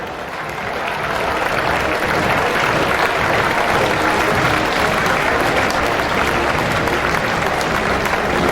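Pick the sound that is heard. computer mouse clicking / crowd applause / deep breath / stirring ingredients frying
crowd applause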